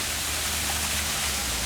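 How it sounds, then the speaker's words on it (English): Steady broadband rush of water from a waterfall in the Singapore Botanic Gardens, a continuous hiss spread evenly across the whole moment with no voices over it. "Some waterfalls."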